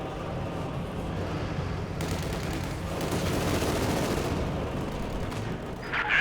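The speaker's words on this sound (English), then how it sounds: "Going for the cutoff point again, but getting hammered with a machine gun" Machine gun fire in the strategy game Company of Heroes 2 comes as a dense, continuous rattle of gunfire with explosive rumble, loud and sustained, and no voices.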